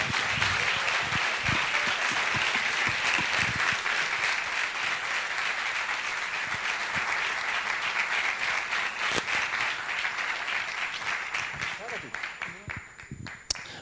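A full theatre audience applauds a speaker taking the stage, dense sustained clapping that fills the room and slowly thins toward the end, with a brief voice near the close.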